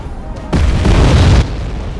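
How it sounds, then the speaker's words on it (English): A missile launching and exploding in the war strategy game Wargame AirLand Battle: one loud, deep boom swelling for about a second, then settling into a low rumble. "And he's firing the missile now."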